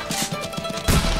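Rifle shots in the Remington Super Slam Hunting video game: a run of soft, evenly spaced thuds, then one louder, fuller blast near the end, close and alone with no talk.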